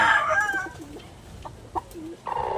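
A Lemon Red fighting rooster, a two-time winner, crows loudly and close at the start, then gives a few short clucks, without talk.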